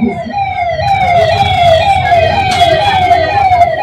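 A wailing ambulance siren sweeps up and down continuously over steady traffic rumble, loud and close, passing nearby during a BJP rally in Bihar.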